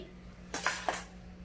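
Two quick, crisp knife strokes chop fresh coriander on a board, close and fairly quiet, in a brief moment otherwise near silent.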